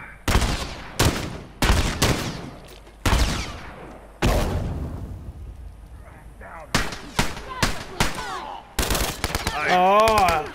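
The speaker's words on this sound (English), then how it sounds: "I'm trying to shoot the one that's standing up." Gunfire in The Last of Us: sharp, loud shots fired singly and in quick bursts, spaced across the clip, ending with a wavering electronic game tone.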